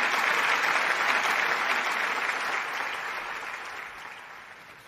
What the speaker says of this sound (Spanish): Quiero pedir un aplauso a Io Juan